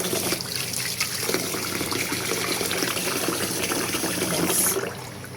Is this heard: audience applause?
no